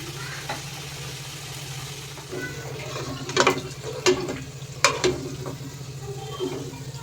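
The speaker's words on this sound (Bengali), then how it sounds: "বাকিগুলো আমি একইভাবে ভেজে নেবো" Crisp wheat-flour snacks deep-frying in hot oil give off a steady close bubbling hiss, with a cluster of sharp spoon clacks and stirring knocks in the middle.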